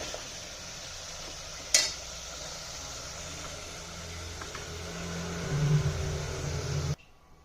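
Masala and chicken frying in a hot pan, a steady broadband sizzle running throughout with one sharp clatter early on and a slightly louder stretch near the end before it cuts off.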